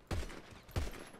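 Gunfire from a heavy weapon in GTA 5 during a zombie fight, two booming shots about two-thirds of a second apart, loud and close with a rolling low tail after each.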